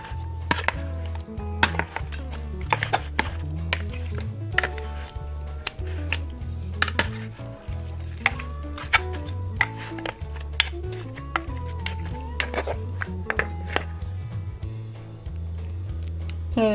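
Pork being stirred with soy sauce in a pot for Filipino pata tim, with repeated clinks and scrapes of a utensil against the pot over a low steady hum, close and moderately loud.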